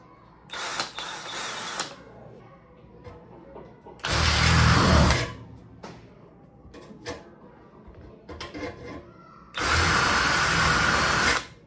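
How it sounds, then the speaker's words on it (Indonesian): A power drill enlarging holes in an old PC case, three loud sustained whirring bursts of a few seconds each, separated by quieter handling clatter and metal clicks, close up. "saya membutuhkan sebuah kita bor aja biar lubangnya lebih gede"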